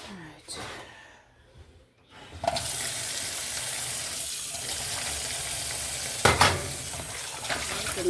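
Tap water gushes into a sink to make dishwater in a home kitchen, a steady, close rushing hiss that starts after a few quiet seconds and continues with speech earlier in the clip.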